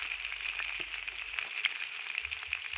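Potatoes fry in a pan with a little salt and turmeric, a close, continuous sizzle dotted with small crackles and pops, with no talking.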